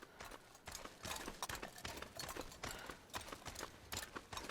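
Hooves of a mountain goat in The Long Dark video game clatter in a rapid uneven patter across rocky ground, close and steady throughout with no talking.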